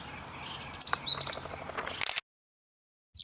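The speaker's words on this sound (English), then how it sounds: "the Azure tit is a little ambassador of the Russian steppe, elegant, resilient, and dressed for winter, year-round" Azure tit of the Russian steppe calling, a short series of thin, high chirps and tweets up close over a soft background hiss, cutting off abruptly before one last brief note.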